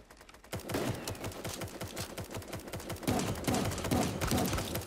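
Rapid automatic fire from a Tommy gun in the cartoon battle royale game Super Animal Royale, a steady rattling burst of loud, closely spaced shots lasting several seconds, picking up intensity toward the end.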